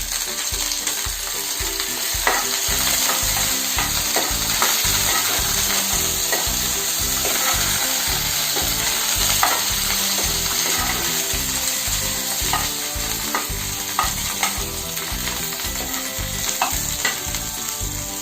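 Curry leaves sizzle and fry with browned onions in hot oil for idli chutney, a loud, steady crackle with occasional stirring scrapes, close up and with no talking.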